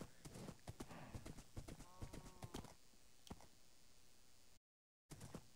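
Hooves clip-clop in a steady trotting rhythm from a horse in a farming video game, crisp and close, with a short whinny partway through and a voice speaking over it before a brief dropout.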